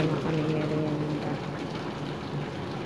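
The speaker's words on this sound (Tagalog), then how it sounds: "Ayan guys, malakas ang ulan." Heavy rain falls steadily as a dense, even hiss, with a low tonal hum beneath it in the first half.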